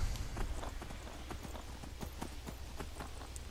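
Horse hooves clip-clopping at a walk in Skyrim, a steady run of soft, evenly spaced thuds over a low ambient game hum, moderately quiet and close.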